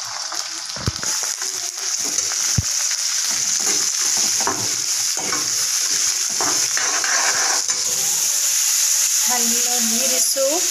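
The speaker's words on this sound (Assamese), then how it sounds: "পিঁয়াজটো অলপ ব্ৰাউন হৈছে চ' তাতে এতিয়া আমি ইয়াত গাজৰ আৰু মটৰ বিন কাটি থোৱা আছে গোটেইখিনি একেলগে দি দিম" Browned onion, carrots and peas sizzle steadily in a pan in a home kitchen, a continuous close frying hiss with occasional stirring knocks and clatter.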